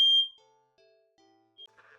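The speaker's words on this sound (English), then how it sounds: "the fire alarm just went off" A fire alarm gives one loud, piercing high-pitched beep, then falls quiet apart from a few faint tones and a brief chirp near the end.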